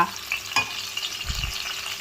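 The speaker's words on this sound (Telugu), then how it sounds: "అవి కొంచెం వేగాలి. ఇవి కొంచెం వేగాక" Bay leaves and whole spices fry in oil in a pan for egg dum biryani, giving a soft continuous sizzle with a couple of quick stirring scrapes, close and alone.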